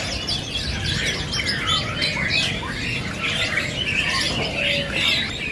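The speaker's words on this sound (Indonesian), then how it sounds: "Tadi jalak Hongkong gacoran." A Hongkong myna sings at a bird-selling kiosk, with rapid squawks, chirps and whistles running continuously over a busy background murmur.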